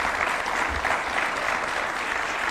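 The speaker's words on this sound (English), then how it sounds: "A round of applause for His Excellency one more time." Sustained, steady applause from an audience at a State House launch event for a refugee and host community plan, dense clapping filling the whole stretch at even loudness with no talk over it.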